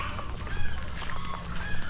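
Chickens cluck at a rural farmyard in the province, a few short calls over low background noise, with a goose-like honk mixed in.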